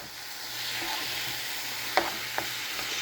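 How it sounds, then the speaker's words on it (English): Spoon stirring tomato paste into Cajun chicken and andouille sausage jambalaya in a pot, a soft continuous sizzle with a few sharp scraping clicks against the pot, fairly quiet and close. "Stir, stir, stir."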